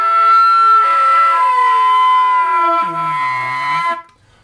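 Flute in a rock style sounds a sustained E, then the same note an octave apart, with a voice hummed through the instrument bending and growling beneath the tone, close and loud.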